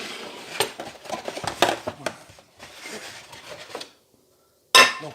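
Protein crêpe batter with eggs being mixed in a bowl, a series of quick clinking, scraping whisk strokes close by, pausing briefly before one final clatter.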